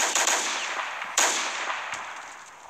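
Rapid bursts of gunfire from a cops-versus-robbers video game, several sharp shots in quick succession followed by a few isolated ones, loud and close with no talking.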